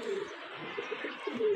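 Soft, low pigeon coos repeating faintly against a quiet background with a light hiss.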